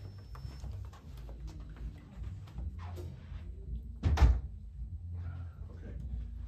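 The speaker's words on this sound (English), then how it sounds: "Let me just shut this door." A door being pushed shut with one solid thud near the middle, amid room rustling and soft movement noises.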